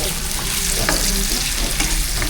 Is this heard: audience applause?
no